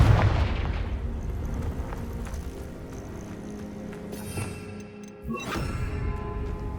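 A Confringo fire spell bursts in Hogwarts Legacy, producing dense, rumbling explosive blasts that fill the whole stretch. A sharp crack near the end is followed by a renewed roaring burst.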